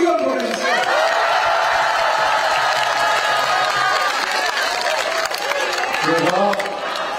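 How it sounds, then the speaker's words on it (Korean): Crowd at an outdoor election campaign rally in Bucheon claps and cheers loudly and continuously, a dense wash of applause with scattered shouts holding steady throughout. "박수 크게 한번 보내주세요"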